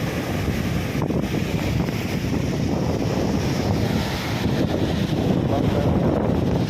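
Rough storm seas churn during a typhoon, with strong wind along the shore. A continuous, loud roar of waves mixes with heavy wind buffeting the microphone.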